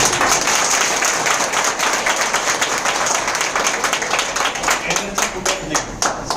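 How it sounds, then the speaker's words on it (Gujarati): Enthusiastic crowd applause in an indoor hall, close and loud, a thick continuous wash of hand claps that grows a little more scattered near the finish. "સારી લાગે છે તાળીઓ ઓછી પડી ગઈ."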